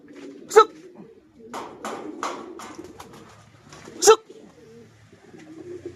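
Blue bar racing pigeons coo close by at a loft as they are called in, with a couple of sharp, louder bursts breaking through the soft calls.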